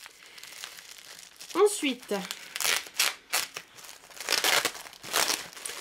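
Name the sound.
crinkling thick protective paper while unwrapping a parcel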